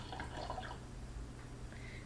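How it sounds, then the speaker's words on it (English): Water poured slowly into a bottle over rocks, a soft trickling and gurgling stream with faint dripping, close and gentle, fading into quieter flow. "I'm going to pour it nice and carefully until I get to my first line"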